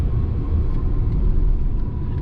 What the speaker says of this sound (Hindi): इंजन की आवाज़ चेंज हो गई